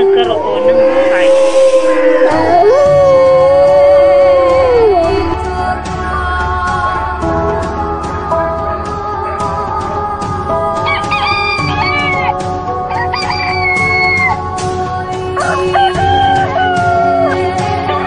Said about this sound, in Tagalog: Sa saliw ng tilaok ng manok at kahol ng aso